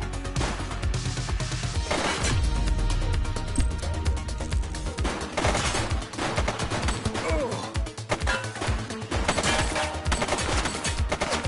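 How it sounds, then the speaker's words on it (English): Bursts of gunfire from the police video game The Precinct crack out in rapid volleys, with heavy impacts and crashes mixed in throughout a loud, busy firefight. "She's shooting!"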